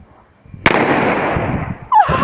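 An F2/F3-category firecracker goes off outdoors with a single sharp, loud bang that trails into a long, fading rumble, followed by a brief crackle.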